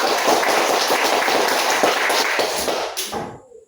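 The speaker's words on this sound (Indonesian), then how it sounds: "Oke, tepuk tangan dulu. Tambah keras tepuk tangannya." A classroom of students claps hands together, producing a dense, loud, continuous patter of many overlapping claps that carries on steadily and then tapers off quickly into silence at the very end.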